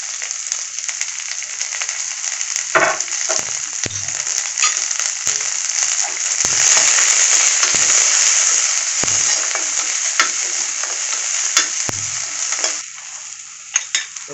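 Garlic and small shallots fry loudly in a pan for a copper leaf stir-fry, a continuous bright sizzle broken by stirring scrapes and occasional utensil knocks, close up with no voices.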